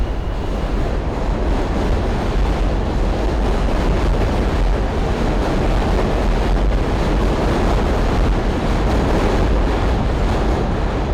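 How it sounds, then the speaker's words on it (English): A steady, loud rumbling roar holds without a break, like a train rolling past nearby, dense and unvarying throughout. "Here comes another train."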